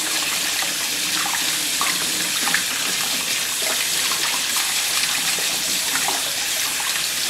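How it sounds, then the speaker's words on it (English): Tap water runs steadily into a sink while vegetables are washed for a brown bread and vegetable soup, a loud continuous splashing gush close by with no talking. "I'm going to wash them off like we did the last day."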